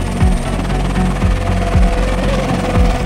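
A medical helicopter flies overhead with a loud, close, steady rotor noise, its regular low blade thumps beating under a continuous engine roar.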